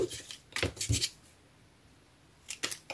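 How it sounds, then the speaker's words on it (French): Scissors cut through something in two short bursts of close, crisp snipping, separated by a quiet pause. "je vais le couper là"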